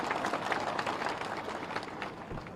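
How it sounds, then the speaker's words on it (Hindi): Crowd applause at an outdoor political rally in Lakhanwas, Rajgarh district, a faint, steady wash of many hands clapping at a distance. "ताली बजे तो जोर से बजे"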